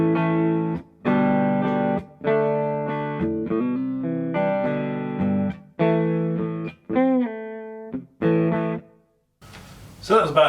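Electric guitar with a clean, undistorted tone playing ringing chords and a few bent notes, separated by short pauses, followed by a brief burst of noise.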